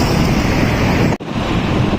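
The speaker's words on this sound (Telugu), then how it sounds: "ఈ ఫ్లైఓవర్ ఎక్కితే మాత్రం మామూలు గాలి రాదు" Strong wind blowing across a high city flyover in Hyderabad, a loud, steady roaring buffet against the microphone with one brief dropout partway through.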